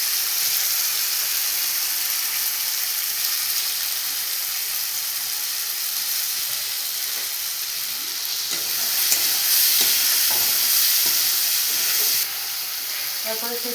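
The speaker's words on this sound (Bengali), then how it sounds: "প্রথমে যে আলুগুলো ভেজে রেখেছিলাম সেগুলো দিয়ে দেবো।" Fried potatoes added to a pan over a straw-fuelled fire, a loud continuous hissing sizzle throughout with a brief surge and some clinking stirs near the end, up close with no talk.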